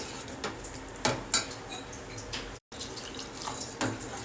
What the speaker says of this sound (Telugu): నేను ఇంకో 1/2 గ్లాస్ నీళ్ళు పోసాను.